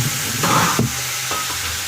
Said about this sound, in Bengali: তো পরে কম করে জল ঢেলে দিচ্ছি